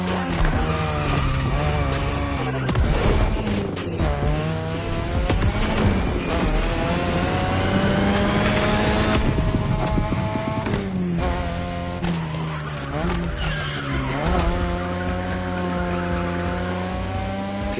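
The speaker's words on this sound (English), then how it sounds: "Tonight your ride is a 3rd Gen 2002 Mazda RX-7. Lightweight, compact, a sick rotary engine, and one hell of a look." A third-generation 2002 Mazda RX-7 with a rotary engine drifts in The Crew Motorfest, its high buzzing revs rising and falling with shifts while tires squeal continuously through long slides.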